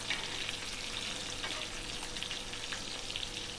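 Mackerel fries in hot oil on a griddle, a constant soft crackling sizzle with faint popping, heard close and alone without talk.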